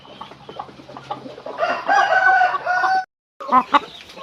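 Breeding hens and a rooster on a Thai poultry farm cluck and crow loudly at close range, with one extended crow in the middle and a short pause before more calls.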